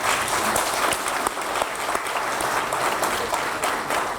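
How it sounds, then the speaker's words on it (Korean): A round of steady applause from attendees at a provincial and county field meeting in Cheongsong, given for a Catholic university president; brisk, even clapping for a few seconds. "박수 한번 해주시고"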